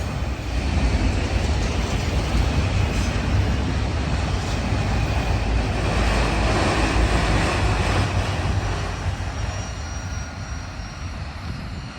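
A train passes steadily in Greenville, South Carolina, a loud continuous rumble and roar that holds for most of the time before easing slightly at the end.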